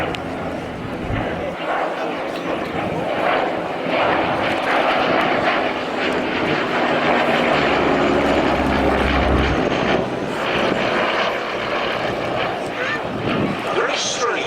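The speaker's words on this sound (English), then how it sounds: "A very strange but wonderful aeroplane." A Westland Lysander propeller aircraft drones steadily overhead at an airshow, its engine roar loud and sustained, rising slightly in the middle, with faint talk beneath.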